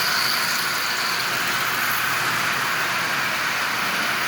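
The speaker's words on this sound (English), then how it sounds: "this locomotive is up and running absolutely splendidly" A Lionel 8902 model locomotive, converted from DC to AC, runs pulling ten cars, producing a steady, continuous whirring rumble at close range without variation or speech.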